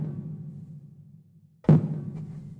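A drum hit from an MPC sample, its long room reverb tail ringing out. A low, droning decay comes first, then a sharp, loud strike whose reverb rings on and slowly fades.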